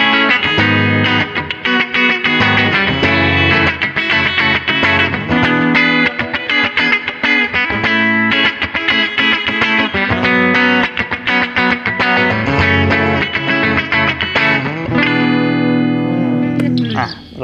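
A Gusta GST-01 HH Strat-style electric guitar with hot humbucker pickups plays through heavy distortion, loud and sustained with dense strummed chords and riffs, a brief drop near the end.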